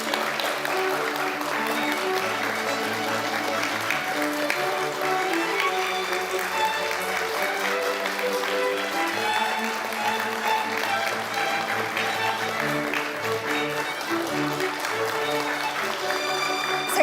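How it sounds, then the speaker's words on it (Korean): Award recipients entering a prize ceremony are greeted by loud, sustained applause from a large audience, steady throughout, with music playing underneath. "큰 박수로 환영해 주시기 바랍니다"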